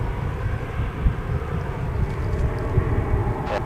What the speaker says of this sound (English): There's Alaska Airlines. It's going out to Seattle.